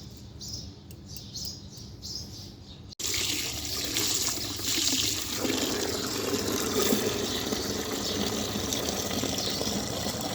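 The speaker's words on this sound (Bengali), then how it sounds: "বেগুন গাছে জল দিয়ে দিলাম।" Water poured over a potted eggplant plant: a short faint trickle gives way to a sudden, steady, close rush of water splashing into the soil, with birds chirping faintly behind.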